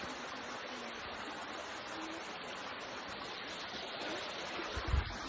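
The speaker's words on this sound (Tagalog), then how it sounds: "ngayon dito tayo sa sapa." A creek flows steadily on an overcast day, its broad, even rush of water running throughout with a faint low knock near the end.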